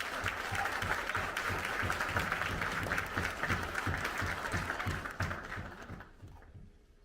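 An audience at a conference gives sustained applause to welcome a pastor to the stage, a dense, even roar of clapping that holds steady for several seconds before fading out near the end.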